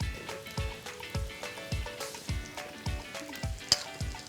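Carrots sizzle in a hot pan with sautéed garlic and onion for pancit canton, a steady frying hiss broken by regular scraping stirs from a utensil, close and moderately quiet.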